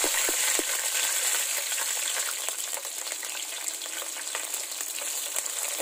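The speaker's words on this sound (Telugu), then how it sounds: "ఆయిల్ వేడెక్కిన తర్వాత కొన్నన్ని మెంతులు వేసుకుందాం। తర్వాత కొన్ని ధనియాలు ఇట్లా వేసుకుందాం।" Fenugreek seeds, coriander seeds and cumin frying in hot oil for a fish curry give a steady, close, fairly loud sizzle with scattered sharp crackles throughout, and no voices.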